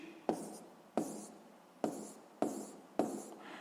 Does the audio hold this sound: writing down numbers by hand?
yes